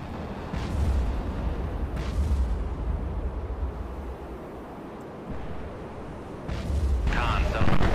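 Deep rumbling roars from a submarine's VLS missile launch in the naval video game Cold Waters, several low booming surges swelling and fading over a steady roar, loud and close.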